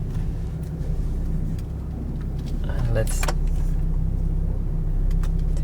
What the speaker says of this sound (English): I'm gonna move a little bit the car in front.